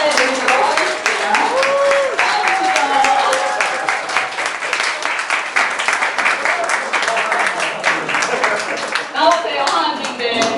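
A book concert audience claps steadily for about ten seconds, a dense, continuous patter of applause with a few voices mixed in.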